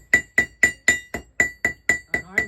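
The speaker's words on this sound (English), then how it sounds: "and I started hammering on that out on the horn" Blacksmith's hammer strikes hot iron on the horn of an anvil, drawing the metal out: nine sharp ringing blows in an even rhythm, loud and close, with no talk.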